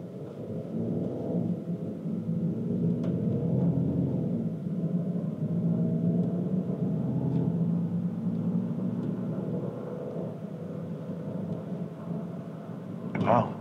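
A 2017 Range Rover Sport diesel pulling away, a steady low engine rumble heard from inside the cabin and holding even throughout, with a faint click near the end.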